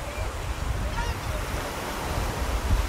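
Surf washes steadily on a beach while wind rumbles and buffets the microphone in a continuous, fairly loud roar.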